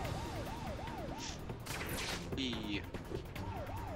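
Ambulance siren in the video game Spider-Man: Web of Shadows wailing in repeated rising-falling sweeps, interrupted midway by crashes and bursts of game noise, with a voice exclaiming briefly.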